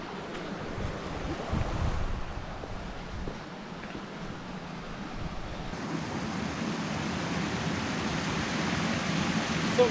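Waterfalls in the Moelwynion mountains in Snowdonia give a distant, soft, steady roar, mixed with wind buffeting the microphone, growing slightly fuller toward the end.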